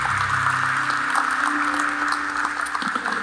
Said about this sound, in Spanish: Vamos a darle el aplauso al Señor